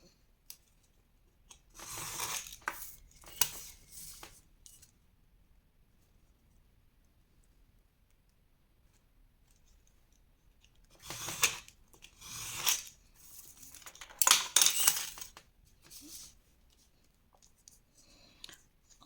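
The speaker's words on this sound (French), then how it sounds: "Sur les lignes que vous venez de tracer, vous allez couper." Scissors cut paper along drawn pencil lines for a Harry Potter pop-up scrapbook album, in two bursts of soft crisp snipping and rustling separated by a long quiet stretch, close and faint.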